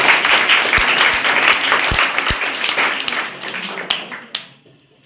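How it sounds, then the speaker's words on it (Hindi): Loud, dense applause from a room of students fills the space at a coaching class in Bairiya, with a few sharp individual claps standing out before the clapping thins and fades to near silence. "चलिए जोरदार ताली बजाइए।"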